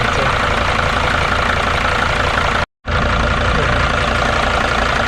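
A 2006 Mercedes Sprinter T1N diesel engine idles steadily up close, a constant broadband rumble with a short complete dropout near the middle before the same idle resumes.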